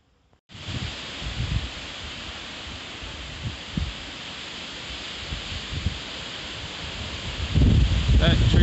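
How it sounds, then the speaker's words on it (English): Strong wind gusts through trees during a November windstorm, a steady roaring rush close to the microphone with buffeting that swells louder near the end. "I hate this wind."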